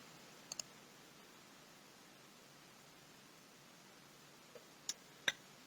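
A computer mouse clicking a few times, with brief sharp clicks near the start and near the end over a steady faint hiss, and no talk.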